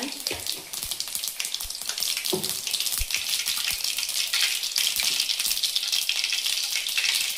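Mustard and cumin seeds sizzling in hot oil at the start of a curry, a dense, steady crackle with scattered louder pops throughout.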